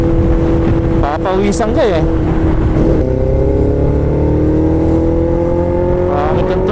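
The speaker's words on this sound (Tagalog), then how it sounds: "Tapos ganito yung tunog ng CB." A Honda CB400 motorcycle engine idling and revving rough and misfiring, loud and close, with someone talking briefly over it at the start.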